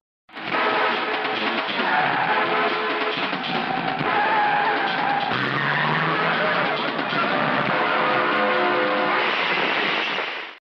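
A car with failed brakes skids with its tires squealing in a 1992 Indian film scene, a loud, continuous screech lasting about ten seconds with a rough engine and road roar underneath.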